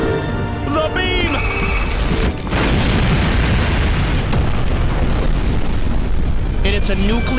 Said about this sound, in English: And it's a nuclear explosion.